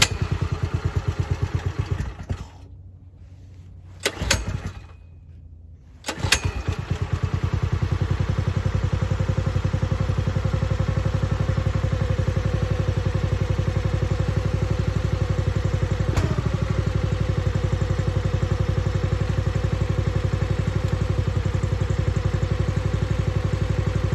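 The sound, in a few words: Harbor Freight Predator engine on MTD log splitter running after choke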